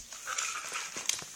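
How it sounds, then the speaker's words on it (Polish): A pet dog whimpers indoors with a faint, thin, high whine that rises and falls in short bursts and has no talking over it. "Przepraszam, to mój pies."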